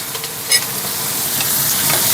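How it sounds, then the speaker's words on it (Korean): Dried pumpkin strips stir-fried in homemade perilla oil with scallions, a steady close sizzle with a few scraping stirs of the utensil in the pan, no talking. "이렇게 해서 살짝만 볶아주세요."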